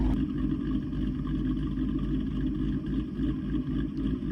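A tuned Ford S650 Mustang with a cam tune idles steadily, its engine and exhaust giving a continuous deep, lumpy rumble, close and fairly loud, with no talking.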